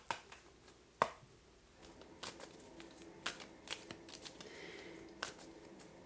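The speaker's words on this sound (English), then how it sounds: "Give me a second to shuffle" A tarot card deck is shuffled close by and quietly, giving soft riffling and tapping sounds in short irregular bursts against a faint room hiss, with no voices.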